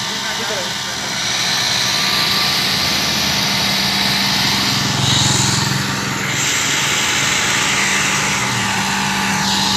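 The engine of a municipal TMA truck runs steadily nearby, a loud, droning hum that holds throughout while people talk over it.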